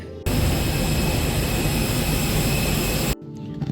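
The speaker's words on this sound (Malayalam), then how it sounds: "എയർബസിൻ്റെ A320 നിയോയാണ് കേട്ടോ." Engines of an Airbus A320neo jet airliner heard from inside, a loud and steady broadband roar that starts abruptly and cuts off after about three seconds.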